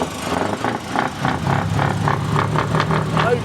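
A modified truck idles through side-pipe exhaust, a steady mid-pitched rumble with rhythmic pulsing, fairly loud and close, amid a busy street-car show crowd.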